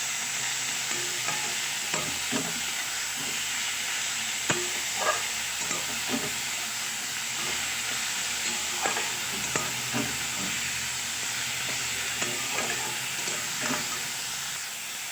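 Steamed radish greens are stir-fried and mixed in a hot pan, Bengali style: a continuous soft sizzle runs under repeated scraping stir strokes of the spatula, close by and fairly steady, with no talking.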